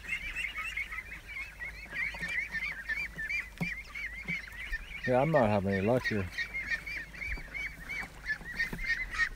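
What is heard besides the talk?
ducks at a pond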